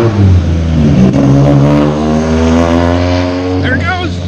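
A Locost car's engine revving hard through a 4-inch straight-pipe aluminum exhaust, a raw sustained roar that climbs and holds, close by.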